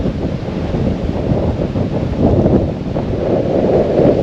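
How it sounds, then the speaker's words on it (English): Strong wind buffets the microphone, a loud, continuous low rumble with gusting surges and no voices. "It is super windy."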